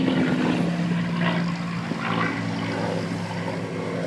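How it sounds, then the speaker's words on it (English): A P-51 Mustang propeller aircraft flies overhead during an Armistice display, its loud, droning piston engine and propeller hum steady and close throughout the short stretch. "the P-51 Mustang."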